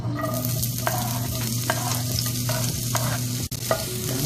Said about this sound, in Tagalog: So yan guys, unahin natin ilagay yung ating white onion.